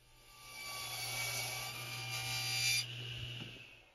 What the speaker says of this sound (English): I ran it through 3 times before I finally had the blade to the right height to cut all the way through the wood